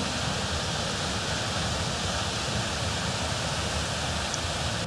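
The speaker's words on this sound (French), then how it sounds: "J'arrive à un endroit où il y a normalement une petite cascade." Small waterfall near the hamlet of Liadouz in the Cantal, heard as a steady, dense rush of falling water that holds constant throughout with no voices.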